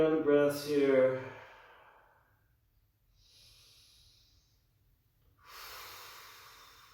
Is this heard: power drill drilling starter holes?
no